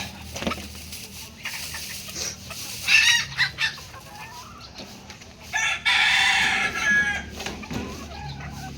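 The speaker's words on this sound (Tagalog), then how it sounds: "ano itong manok" A rooster crows loudly twice, the second call long and strained, while hens cluck intermittently nearby in an otherwise quiet yard.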